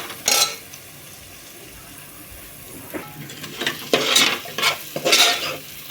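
Onions and masala base being sautéed for mutton biryani, with a quiet sizzle and scattered clinks and scrapes of a ladle against the pan growing louder and busier toward the end.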